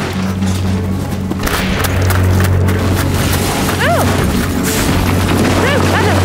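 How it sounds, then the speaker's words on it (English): A bomb explosion in a British wartime TV drama sounds as a loud, sustained, rumbling blast with crashing debris, filling the whole stretch. "Not another bomb."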